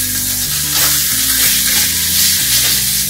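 Pork chops sizzling loudly as they are laid into a smoking-hot cast iron pan with olive oil, a dense continuous crackle and hiss with a few soft clunks of meat settling, no voices.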